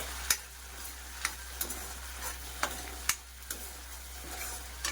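Prawns fry in a pan while being stirred, a soft continuous sizzle broken by about eight clear scraping clacks of the spatula at irregular intervals, close by with no voices.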